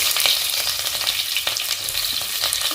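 Onions with cinnamon, cloves and cardamom frying in ghee for paneer dum biryani, a loud, dense, continuous sizzle with faint scraping of stirring.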